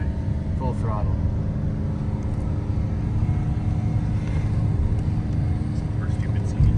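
A car with a CVT is driven flat out at full throttle on a rural road, its engine holding a steady, loud drone with road rumble throughout and faint voices over it.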